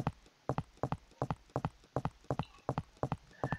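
Footstep sound effects from a player character walking in a Unity 3D game tap out quickly and evenly, about fourteen clear steps in a steady rhythm, with no talking.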